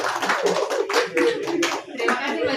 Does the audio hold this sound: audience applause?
yes